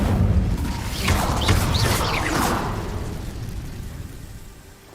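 A fire spell cast in Hogwarts Legacy erupts as a loud, roaring burst of flame with crackling whooshes, swelling at first and then fading away gradually over several seconds.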